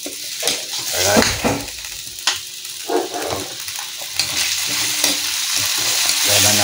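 Potatoes frying in a pan with meatballs, sizzling steadily while a spatula stirs and scrapes, giving close, uneven bursts of clatter over the hiss.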